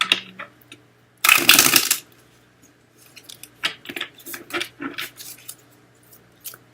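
Tarot cards being shuffled in a riffling burst near the mic, followed by softer scattered card snaps and taps, with no talking.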